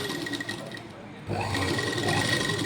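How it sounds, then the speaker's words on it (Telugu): A sewing machine stitching a hook belt, quiet at first, then running loud and continuous from about halfway through. "ఈ మధ్యలోకి ఇంకో కుట్టు వేసుకోవాలి"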